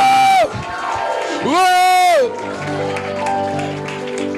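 A church congregation at a worship service cheers and shouts hallelujah, with loud whoops and rising voices in bursts, and a short exclamation in between.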